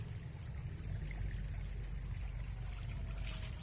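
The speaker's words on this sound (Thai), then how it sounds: "น้ำไหลก็เป็นคูน้ำเสียงมันเสียงน้ำตกเลย" Water flowing steadily along a canal in a coconut orchard, a constant low rushing with a soft splashing texture, fairly quiet and unbroken, with no voices.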